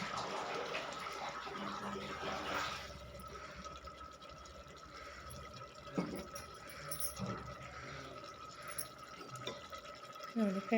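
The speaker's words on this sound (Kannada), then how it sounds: "ನಾನು 3 ಲೋಟ ನೀರು ಹಾಕ್ತಾಯಿದ್ದೀನಿ." Water is poured into a pot of rice mixed with yogurt for vegetable kushka. It makes a faint, continuous splashing trickle beneath a voice as she talks over the cooking.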